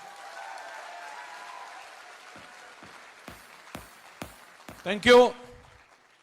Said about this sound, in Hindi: सारी जोरदार तालियां बजाई आप सभी लोगों ने